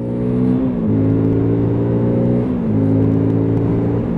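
A Lexmoto LS-Z motorcycle engine revs up in two rising surges, its steady hum climbing and dropping between pulls, heard close up with no voices.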